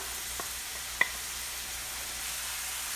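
Ginger and a handful of large garlic cloves hit a hot pan for a Kerala-style egg curry, giving a steady low sizzle with a couple of small clinks near the start and no talking.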